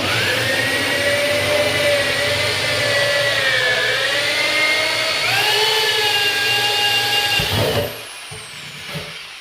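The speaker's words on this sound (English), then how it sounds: "And now I'm going to go ahead and drill the holes." A power drill boring holes into plastic buckets, a steady loud whine whose pitch dips and rises under load for several seconds before cutting off, followed by faint handling noise.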